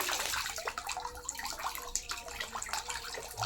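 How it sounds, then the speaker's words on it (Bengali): Water is poured over the head of a man with a fever, giving a steady, soft splashing and trickling, like a running tap, that continues evenly throughout and stays fairly quiet. "আমি বাবার মাথায় জল দিচ্ছি।"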